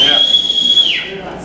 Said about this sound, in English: It's a good whistle.